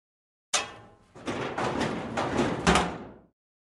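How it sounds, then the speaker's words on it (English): A door is forced open with a crowbar in the adventure video game Dead Synchronicity: a sharp crack, then a sustained scraping, grinding strain ending in a loud bang, heard alone. "Doesn't look like it's going to be complicated to open this door with the crowbar."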